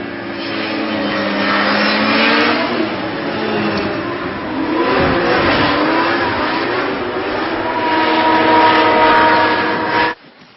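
A civil-protection aircraft flying overhead, a loud continuous propeller-like drone swelling and easing over ten seconds, near and steady, cutting off abruptly at the end.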